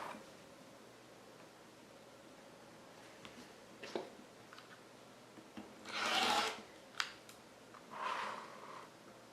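Rotary cutter or scissors cut 2.5-inch strips from a small fat quarter of quilting fabric: faint scattered rustles and a few short scraping cuts over a quiet room, with no talking.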